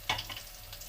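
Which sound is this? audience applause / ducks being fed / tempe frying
tempe frying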